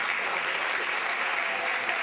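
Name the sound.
audience applause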